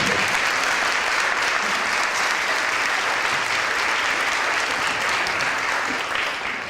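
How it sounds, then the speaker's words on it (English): School concert audience gives sustained applause for an administrator named Ron, a thick continuous clapping texture that stays strong and steady before easing slightly at the end. "I think, Ron, you deserve applause"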